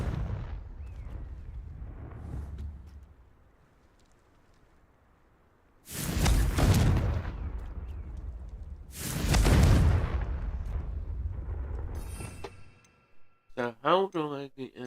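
Two heavy, booming blasts from the Confringo fire spell in Hogwarts Legacy, each a loud burst that rumbles off over a few seconds, preceded by a quieter stretch and followed by a voice speaking.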